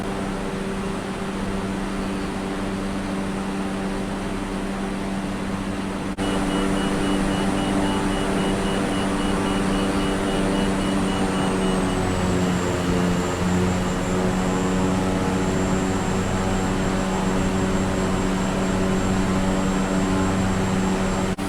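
Bush plane in Microsoft Flight Simulator cruising over mountainous Papua New Guinea terrain near Dinangat Aerodrome, a steady, loud propeller-engine drone with constant harmonic hum for the whole stretch, its pitch shifting slightly midway.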